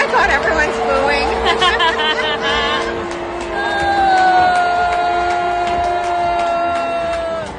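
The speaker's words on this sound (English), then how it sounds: "Mark Carney, being booed at the Calgary Stampede when he's introduced." Booing and jeering fill the Calgary Stampede grounds when Mark Carney is introduced: a continuous crowd roar that grows after the midpoint, with amplified speech carrying over it.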